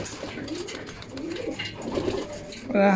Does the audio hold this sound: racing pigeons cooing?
yes